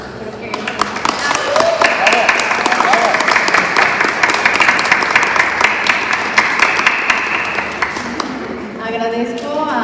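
Audience applause for the women authors at the close of a panel discussion at the Primavera Bonita 2023 event, loud sustained clapping filling the room for several seconds, with voices and cheering mixed in and a speaker resuming at the end.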